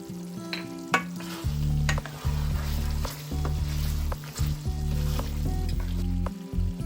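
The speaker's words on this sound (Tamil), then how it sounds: "இதோட மிளகுத்தூளும் சேர்த்து நல்லா பிரட்டி விடணும்." Mutton sizzles in a pan with pepper powder while being stir-fried, with loud steady frying, repeated scraping stirs and clanks of the spatula close up, and no talking.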